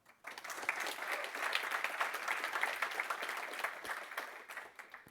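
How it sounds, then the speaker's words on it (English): Audience at a conference breaks into applause for a speaker, a dense, sustained burst of many hands clapping that starts abruptly and holds steady before tapering off near the end. "please give him a big round of applause"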